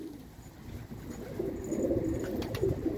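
Pet pigeons kept on a cold Istanbul evening coo softly in low repeated phrases, a few birds close by with faint chirps now and then and no talk.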